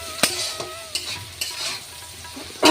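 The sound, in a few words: onions frying in a pan for meat curry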